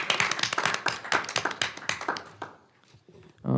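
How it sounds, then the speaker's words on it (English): Scattered hand clapping at a school board meeting, a modest round of distinct claps from a small group that fades out, followed by a voice starting to speak. "Oh yeah, round of applause."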